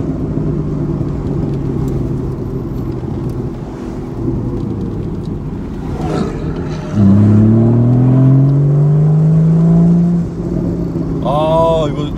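A Porsche sports car, a Carrera S or Cayman S, runs steadily under a driver's talk, then the engine revs up loudly with a rising, strained tone and eases off near the end.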